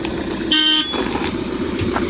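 A vehicle idles and rumbles nearby while a short horn toot sounds once, then the engine keeps running steadily.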